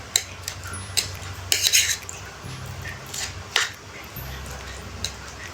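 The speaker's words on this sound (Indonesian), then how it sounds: "kita haluskan dengan sendok." Soft, overcooked rice being mashed with a metal spoon in a bowl for baby food, with intermittent clinks and scrapes of the spoon against the dish over a quiet background.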